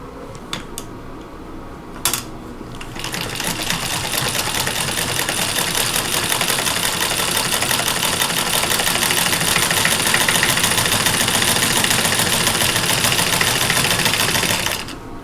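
A sewing machine chain pieces quilt block rows, a few clicks at first, then a loud continuous rapid mechanical whirring that runs close and steady for over ten seconds before stopping.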